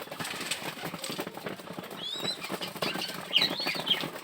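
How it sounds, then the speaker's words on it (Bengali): Pigeons gathered to drink water flap their wings in soft, repeated bursts, faint and close, with a few light chirps in a quiet outdoor setting. "দেখেন পানি খাওয়ার জন্য কবুতর"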